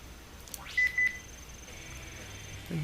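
Two short electronic phone beeps sound in quick succession over a quiet, faintly hissing background.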